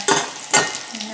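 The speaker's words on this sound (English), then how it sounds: "I'm just going to add the garlic. You can see it's sizzling" Garlic sizzles in a hot pan, with two short bursts of stirring over a soft, steady frying hiss.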